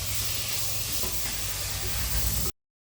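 Tomatoes sauté in a hot pan for white chickpea curry, giving a steady close hiss and sizzle that stops abruptly near the end, with no talk.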